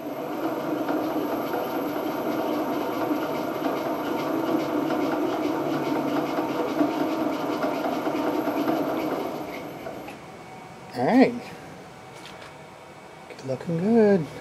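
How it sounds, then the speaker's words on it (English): A CNC machine spindle controlled through Mach3 with a Warp9 SmoothStepper runs at a set 500 RPM, giving a steady close mechanical hum with tonal whine for about ten seconds, then it stops and two brief voice-like bursts follow. "let's see if the spindle works"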